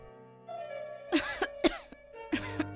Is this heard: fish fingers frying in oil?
no